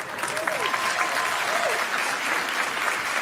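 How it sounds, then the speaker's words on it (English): A crowd applauds at a martial arts and parkour event: steady, dense clapping throughout, with faint voices calling out beneath it. "it's funny how the crowd is clapping."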